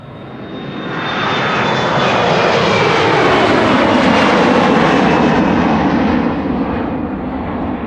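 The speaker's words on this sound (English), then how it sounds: "I think we might get an A321neo from Transavia next" Transavia Airbus A321neo jet engines roar at Amsterdam Schiphol, a loud close pass that swells over the first seconds, holds a full rumbling whine, then slowly eases as the aircraft moves away.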